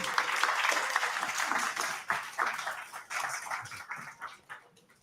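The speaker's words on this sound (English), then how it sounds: "Give these guys a round of applause" An audience at a LinkedIn community networking event gives a round of applause, a brisk burst of many hands clapping that starts full and gradually thins out and fades over about five seconds.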